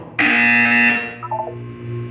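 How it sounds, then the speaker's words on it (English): A loud electronic buzzer sounds in the Portal 2 video game, a harsh sustained tone lasting nearly a second that cuts off into a quieter lingering hum, with no talk. "When you hear the buzzer, look down at the floor."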